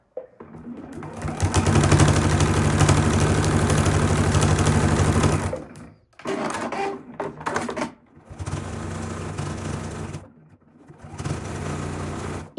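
A sewing machine fitted with a walking foot runs loud and steady, stitching quilt fabric for a hot pad, then stops and restarts in several shorter bursts with brief pauses between.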